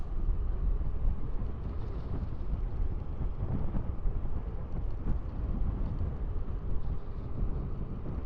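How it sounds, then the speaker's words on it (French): Light crosswind buffets the microphone while riding an electric mountain bike outdoors, a steady low rumble with gusty fluctuations lasting throughout, with no talking. "il y a un petit léger vent, mais il est pas de face, il est de côté."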